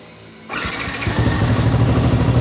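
A Yamaha Vixion motorcycle with an electrical fault cranks and fires up after a brief quiet moment, then settles into a loud, close, steady idle.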